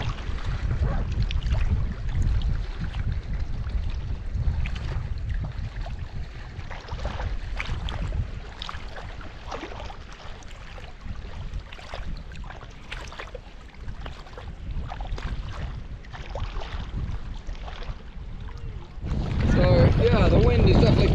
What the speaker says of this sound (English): Yeah, the wind is definitely picking up.